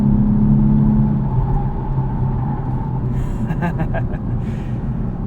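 A 2023 Lexus IS 350 F Sport AWD downshifting into second, a loud in-cabin engine rumble and whir that rises briefly, with someone talking over it.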